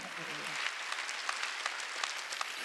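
A church congregation at a Sunday service clapping their hands, a dense run of quick claps under a low murmur, with no clear speech.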